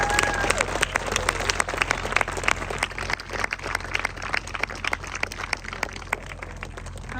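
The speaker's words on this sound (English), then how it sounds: "How about another round of applause for Bob Mange?" Sustained applause from a crowd at a middle school ceremony honoring a community figure, many hands clapping in a dense, even wash of crisp claps with no voices on top.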